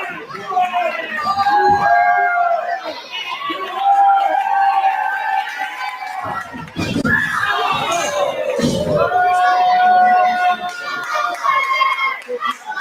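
A packed wrestling event crowd cheers and screams steadily, with high-pitched shouts and excited yelling layered over a continuous loud roar and a short rougher burst around the middle.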